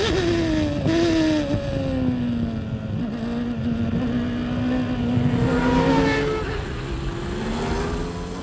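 1993 Formula 1 cars at the start of the Hungarian Grand Prix, a loud sustained engine whine rising and falling in pitch as the cars pass and accelerate, with wind buffeting on the microphone.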